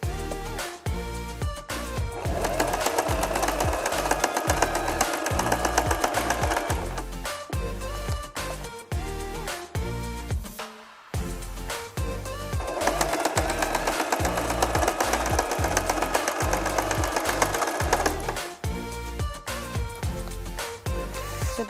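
A sewing machine stitches a folded fabric pocket for an organizer in rapid, even mechanical bursts, with a short pause partway through before the stitching resumes.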